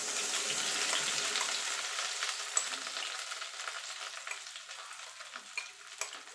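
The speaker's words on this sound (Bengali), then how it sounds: "এবার আমি এই সুজিটা ঘিয়ের মধ্যে দিয়ে দেবো।" Semolina soaked in milk goes into hot ghee for halwa and fries with a steady, soft sizzling hiss. Stirring scrapes at close range, and the frying fades a little over time.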